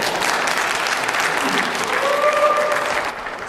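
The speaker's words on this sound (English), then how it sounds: "The crowd's reacting well." A debate audience breaks into loud, sustained applause, a dense wash of clapping that holds steady and fades slightly at the end, with a brief voice or whistle-like tone rising above it.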